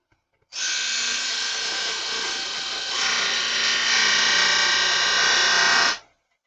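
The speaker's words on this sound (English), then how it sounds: "It'll be faster just to do it on the disc sander." A disc sander spinning up and grinding down a workpiece, loud and close, starting abruptly, holding a steady high whine with a slight rise in pitch midway, then stopping.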